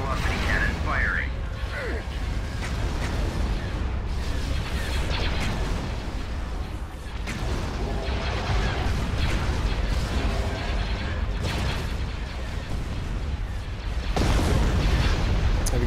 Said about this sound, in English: Hyper velocity cannon firing.